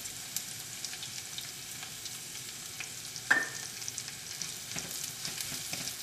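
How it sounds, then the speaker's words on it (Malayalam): Onion, ginger and green chilli sautéing with turmeric powder in a pan for Kerala egg curry, a steady close sizzle with light stirring scrapes and one sharp utensil knock midway, no talk. "ഇഞ്ചി പച്ചമുളകും ചേർക്കാം ഇത് നന്നായിട്ടൊന്ന് വഴറ്റാം"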